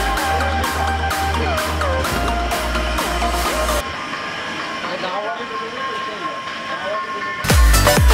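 Free amusement train ride at a water park rolling past, with a steady low rumble, rhythmic clicking and hiss that fade midway, then a loud burst near the end, under a busy crowd and music.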